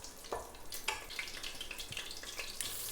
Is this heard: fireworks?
no